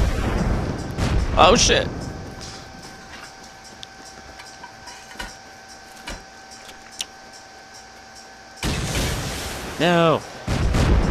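Incendiary rocket launcher explosions from Rust rumble in two heavy bursts, at the start and near the end, with sharp impacts between them; someone shouts in alarm over the blasts.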